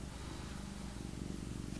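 Close, continuous purring from a female cat, a low steady rumble with an even pulsing rhythm and nothing else over it.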